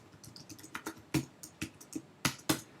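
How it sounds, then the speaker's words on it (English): Keys clack on a computer keyboard in an irregular run of crisp, close taps, with a few harder strokes standing out, and no talking. "you can type something like this"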